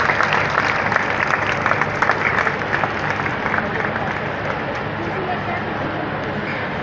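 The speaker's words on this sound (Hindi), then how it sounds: "कृपया जोरदार तालियों से अतिथिगणों का स्वागत करें" Audience applause at a Chhattisgarh government event, greeting the chief minister Bhupesh Baghel and guests arriving for a statue unveiling; dense, steady clapping from a large crowd that fills the whole stretch at an even level.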